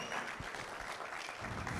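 Brief burst of crowd clapping at a compliance management workshop, steady and moderately loud, filling the short moment without any voices.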